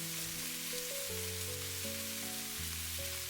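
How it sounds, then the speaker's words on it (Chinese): Dried tofu skin being stir-fried in a wok gives a steady, close hiss of sizzling with music playing over it and no talking. "把腐竹表面的水分炒乾，同時炒出香味"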